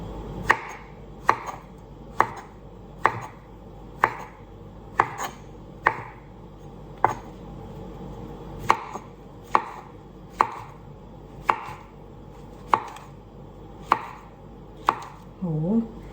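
Steady knife slicing mushrooms on a wooden board, close and crisp, about a dozen and a half evenly spaced chops at an unhurried, regular pace.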